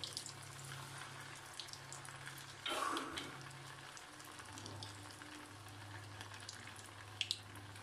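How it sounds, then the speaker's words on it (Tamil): Paneer fingers deep-frying three or four at a time in hot oil, a faint steady bubbling hiss over a low background hum, with a brief louder splash of sizzle partway through and no talking. "நல்ல சூடாக இருக்கிற எண்ணெயில் இந்த பனீர் ஃபிங்கர்ஸ் மாதிரி இருக்கு இல்லையா இதை வந்து நல்லா பொரிச்சிடணும்"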